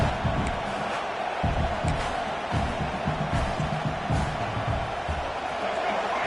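Football stadium crowd noise at a Clemson game, a broad continuous roar from a big crowd, steady and fairly loud with no clear peaks, under light background activity.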